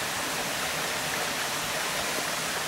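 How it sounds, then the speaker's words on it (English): A waterfall on a branch of Honey Creek below wooded bluffs roars as a steady, dense rush of water, constant and unbroken, with no voices. "There's the bluffs, and the waterfall down there."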